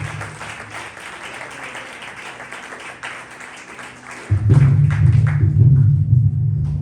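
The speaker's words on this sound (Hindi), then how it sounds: "आइए उस यीशु के लिए जोरदार तालियां बजाते हैं।" Congregation applause for Jesus at a Christmas Day worship service, a steady clapping wash that is suddenly joined by a loud, deep sustained tone midway, swelling the sound.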